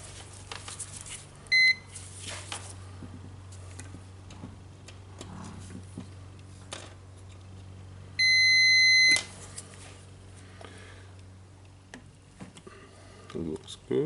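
A multimeter set to continuity mode beeps while testing the wires of a Bosch GWS 20 230 angle grinder, with two short tones and a longer one about a second long over a low steady hum and faint handling sounds.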